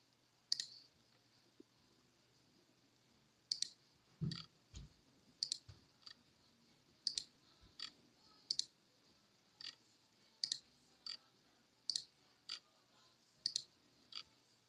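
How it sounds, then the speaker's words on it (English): Dice rolled over and over in a box-opening session for the Disney Lorcana card game, giving a series of short, sharp clicks and rattles spaced about a second apart, faint and with no talking. "roll the dice again. We got 7."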